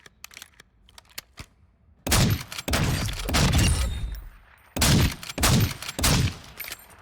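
A Lockwood sniper rifle in a video game fires in quick succession, each loud, booming shot ringing out with a tail. Lighter clicks and clatter come first, then heavy shots in bursts close together.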